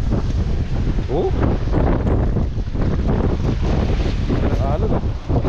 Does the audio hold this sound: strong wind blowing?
yes